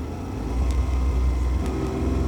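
A warmed-up Ferrari Dino 246 GTS engine idles smoothly in a workshop, a steady low hum and burble at moderate level with a couple of faint, brief ticks above it and no talking.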